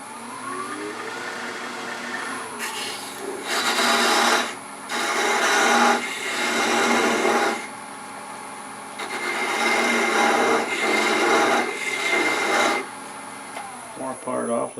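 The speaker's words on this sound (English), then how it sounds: "This is a thin parting tool." A thin parting tool scrapes against spinning wood on a lathe, parting off a turned box base, in several long, rasping bursts over a steady motor hum, separated by short pauses.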